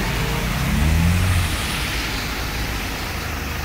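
A Pearl Red Mazda FC3S RX-7 arrives on a base, its engine a low rumble that swells briefly and then settles under steady broadband road and wind noise.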